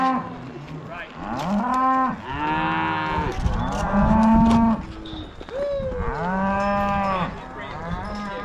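Cattle and calves moo at a corral, several loud overlapping calls of varying pitch, some deep and drawn out, others higher and shorter, close by and continuous.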